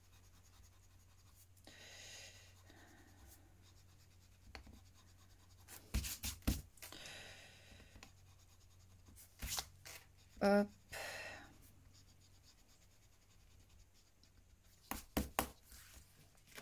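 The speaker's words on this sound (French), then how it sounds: "Ensuite, je prends ma gomme." An eraser rubbing across a paper bookmark, soft scratchy strokes in short bursts with a few louder knocks and taps, under occasional quiet speech.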